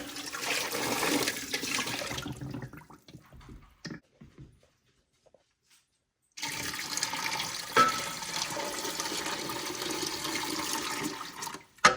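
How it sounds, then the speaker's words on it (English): Hot water pours into a pressure canner loaded with jars of deer meat, a steady rushing splash that stops for a few seconds of near silence and then resumes, strong and continuous, until the end. "We're going to add 3 quarts of hot water."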